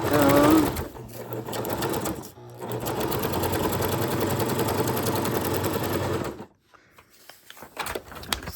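Sewing machine chain stitching lace onto junk journal pages, a steady fast mechanical whirring and clatter running for several seconds between brief pauses, with a voice speaking at the start.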